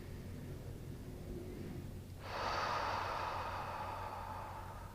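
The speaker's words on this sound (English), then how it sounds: "Breathe into the belly and exhale. One more breath." A single slow, deep exhale during a yoga breathing exercise, a soft airy whoosh that begins about halfway through and trails off, close and gentle over faint background hiss.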